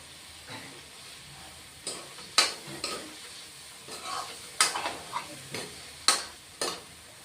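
Potatoes and spices are sautéed in a pan for a Bengali-style katla fish curry, with a soft sizzle under repeated scraping stirs and clinks of a spatula against the pan.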